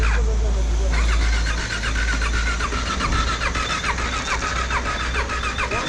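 A KTM Duke 390 motorcycle cranks over and over without firing on a slope along the road toward Sarchu. The starter whirs close and loud in a rhythmic churn, with a voice heard over it.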